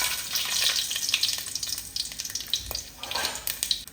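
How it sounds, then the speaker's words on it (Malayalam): Cloves, cinnamon, cardamom and fennel seeds sizzle and crackle in two teaspoons of hot ghee for chickpea biryani, a steady close frying hiss with scattered pops and a soft stirring clink, no talk. "അതിലേക്ക് 2 ടീസ്പൂണ് നെയ്യ് ഒഴിച്ച് കൊടുത്തിട്ടുണ്ട്. അതിലേക്ക് നമുക്ക് ഗ്രാമ്പു, കറുവപ്പട്ട, ഏലക്ക, പെരുംജീരകം ഇതെല്ലാം ഇട്ട് കൊടുക്കാം"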